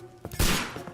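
Gunfire in the game Sherlock Holmes: Crimes and Punishments, a sharp loud blast followed by a quick rattle of shots within a single second.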